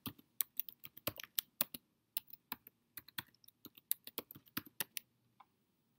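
Someone types on a computer keyboard in a quiet room: a run of crisp, close key clicks in an uneven rhythm that lasts about five seconds, with short pauses between bursts.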